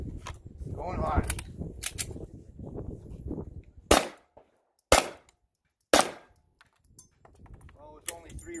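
Sinter Fire frangible Gold Dot rounds are fired at a metal target at the SHOT Show 2020. Three sharp, loud gunshots ring out about a second apart, following a stretch of background murmur and clatter.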